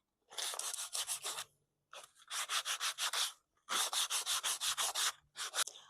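Sandpaper rubbing old varnish off outdoor wood furniture, quick rhythmic back-and-forth strokes in bursts with short pauses between, close and crisp, no talking.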